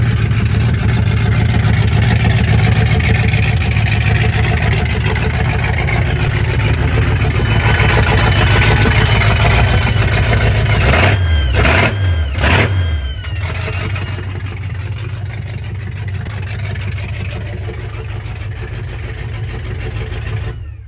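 A loud car engine with a choppy cam idles with a lumpy, uneven chop, then revs sharply a few times before settling back into a rough, loping idle.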